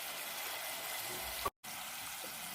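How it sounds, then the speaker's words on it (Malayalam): Water poured into a cooking pan while making chickpea manchurian, a steady even rush of liquid with a brief gap partway through, no voices. "ഏകദേശം 2 ഗ്ലാസ് വെള്ളം ഒഴിച്ച് കൊടുക്കുന്നുണ്ട്."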